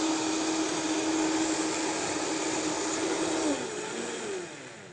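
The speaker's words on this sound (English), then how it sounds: "let it blend and blend until you don't hear any clicking or clanking from your almonds" A blender blending raw almonds runs on high with a steady, loud whirring roar, its pitch dropping near the end as the motor slows.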